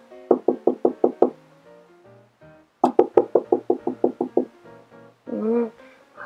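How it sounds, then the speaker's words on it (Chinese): Someone knocks on a door in a quick series of about six raps, pauses, then knocks again about ten times, sharp and close, followed by a short tonal sound. "隔天早上，突然有人敲门。"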